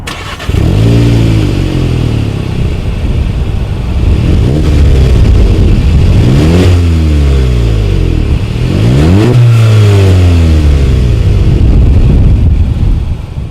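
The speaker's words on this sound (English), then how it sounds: "As always, here is that exhaust clip." Exhaust of a 2019 Volkswagen Golf GTI with dual chrome-tipped outlets, revved repeatedly at close range: three or four rising-and-falling engine sweeps over a steady idle, loud and with no talking.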